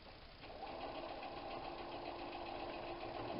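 A sewing machine stitches steadily through three thick layers of a tote bag handle, a soft rapid mechanical whir that starts after a brief pause and runs evenly, close and quiet.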